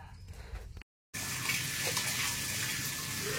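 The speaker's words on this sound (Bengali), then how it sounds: "কি করছিস জল দিয়ে? ও, স্নান করছিস?" Water gushing and splashing steadily as a young girl bathes at home, loud and close after a brief silent gap, with no talk over it.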